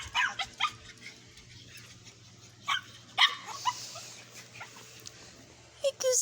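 Dogs whimper and give short yips and barks at intervals, fairly close by, with quiet gaps between the bursts and a low steady hum underneath.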